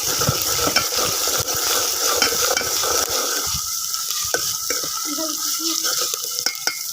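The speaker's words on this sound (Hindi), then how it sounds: "जिंजर गार्लिक और ग्रीन मिर्चों का पेस्ट इसमें ऐड करेंगे, इसको भी फ्राई करेंगे।" Ginger, garlic and green chilli paste frying with onions in a pan, a constant bright sizzle with stirring and scraping of a spatula, the sizzle briefly intensifying midway, close and steady without speech.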